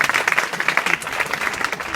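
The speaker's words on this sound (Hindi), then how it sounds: "जोरदार ताली बजाओ" Students at an inter college in Azamgarh break into a short burst of clapping, dense and steady for about two seconds, with faint voices mixed in.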